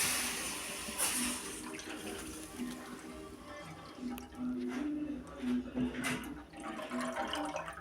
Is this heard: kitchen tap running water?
yes